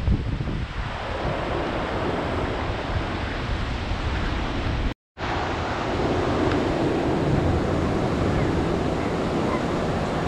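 Surf breaks steadily on a beach in Bali, a loud continuous wash mixed with heavy wind buffeting the microphone, briefly cut to silence midway.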